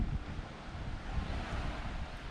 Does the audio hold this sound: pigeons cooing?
no